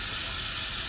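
Water runs from a camper faucet in a steady, close, full hiss with no pause through the short stretch.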